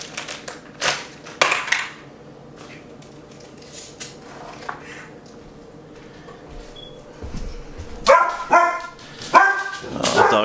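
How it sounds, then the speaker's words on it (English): Dogs barking at a can crush challenge setting, a few sharp barks early on, then a louder run of repeated barks near the end among clinks and handling noises of cut metal cans. "Dogs are angry about this."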